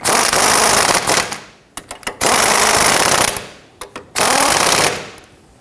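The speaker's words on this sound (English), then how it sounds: "we can go ahead and tighten them down. On the installation, we're going to use a 19mm socket to go ahead and tighten these down" Three long, loud rattling bursts from an impact wrench with a 19mm socket, separated by short quick taps, tighten the lower ball joint bolts on a 1992–1996 Toyota Camry.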